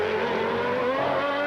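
Ayrton Senna's 1992 Formula 1 car with traction control, screaming at high revs during the Australian Grand Prix warm-up in Adelaide, a loud, steady engine howl with a rising pitch held through the whole moment.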